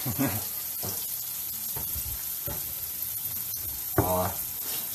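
Onions fry in a well-seasoned pan, a low sizzling hiss under intermittent short bursts of stirring and scraping, fairly close and moderately quiet.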